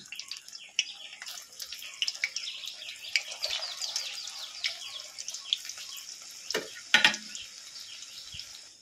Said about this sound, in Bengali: সেমভাবে আবার এগুলো ভেজে নেব।